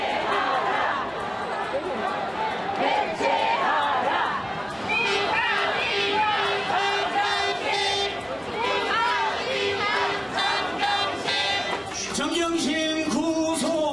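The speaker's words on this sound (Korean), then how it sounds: "이 반대편 보수단체 측, 우리가 승리했다, 조국 전 장관도 구속하라며 법원의 판단을 환영하면서 환호했습니다" Conservative group supporters in a street crowd outside a Korean court cheer the ruling, a loud mass of shouting voices and chanting with overlapping chatter, a car horn-like tone briefly, and rising cries near the end.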